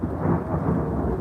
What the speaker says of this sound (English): Uh-oh, here comes the storm, guys.